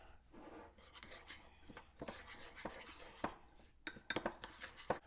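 A spoon scrapes and clinks against a bowl while seasoning paste for prime rib is stirred, giving soft, irregular taps and rubbing sounds that grow sharper and more frequent toward the end, quiet and close with no talk.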